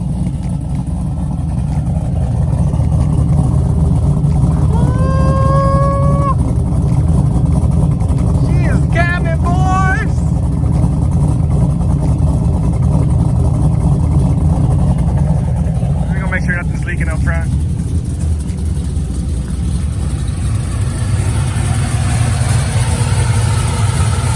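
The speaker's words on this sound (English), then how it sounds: "This is the first time I've been able to start this car without me being inside and giving it gas." A cammed car engine on a frosty cold start idles steadily with a rough, lumpy rumble, continuous throughout, while a few brief whistles and squeaks sound over it.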